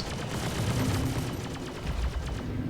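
Ship weapons fire in Star Citizen 3.17.2 ship-based PvP from a Raptor X, a dense rapid stream of shots layered over a constant loud engine rumble, with no gaps and no speech.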